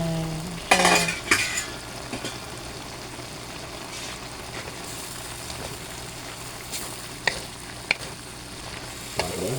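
Lumpiang hubad filling stirred in a frying pan under a steady low sizzle, with a few sharp utensil scrapes and clinks against the pan near the start and scattered knocks later.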